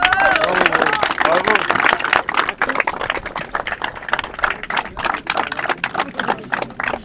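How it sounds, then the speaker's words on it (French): A crowd claps for a third-place podium finisher at a racing season awards, quick continuous applause with a voice talking over it. "on peut l'applaudir"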